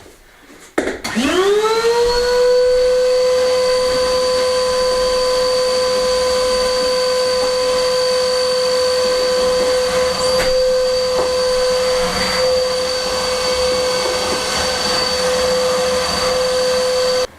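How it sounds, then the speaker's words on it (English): A Henry vacuum cleaner starts up and runs steadily at close range, a loud, even motor whine with a hissing airflow as it hoovers debris out of the joints of a newly laid floor. "Got Henry here, get all the bits hoovered out of the joints"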